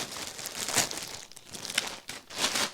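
A plastic bag crinkles and rustles in several bursts as it is handled up close during an unboxing, with brief quiet gaps between bursts and no talk.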